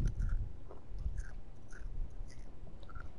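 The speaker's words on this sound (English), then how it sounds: "What the hell are you chewing?" Someone chews food close to a microphone, with a run of wet, crunchy bites and mouth clicks repeating irregularly and fairly quietly, no talking.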